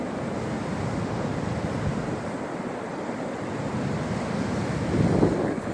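Ocean waves breaking at Daytona Beach make a steady, continuous roar of surf, with wind buffeting the microphone and a slight swell in loudness near the end; nobody speaks.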